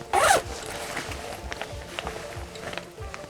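A zipper drawn quickly along the full-length mesh pocket of a sling bag, one brief loud zip at the start followed by faint handling and rustling.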